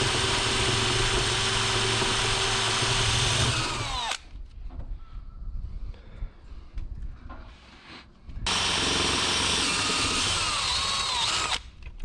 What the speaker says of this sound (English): that drill bit is mighty bent